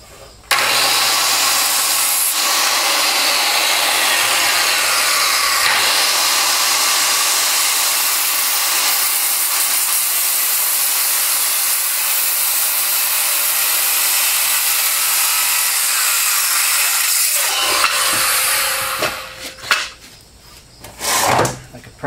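A power saw cutting a notch into a wooden form board for cement steps, a loud continuous whining cut lasting most of the clip before winding down and stopping near the end.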